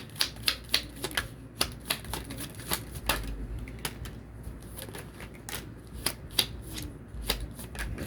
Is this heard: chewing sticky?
no